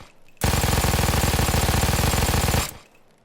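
An MG-42 (Buzzsaw 42) machine gun firing in Payday 2, one loud, extremely fast unbroken burst of about two seconds with a buzzing rattle, starting and stopping abruptly against quiet.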